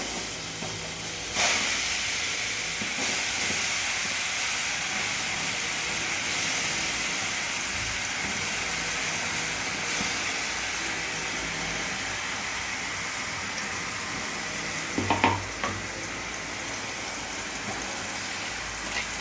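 Ingredients drop into hot gingerly oil and sizzle in a steady, close, hissing fry that carries on throughout, with a few brief clatters and louder crackles partway through.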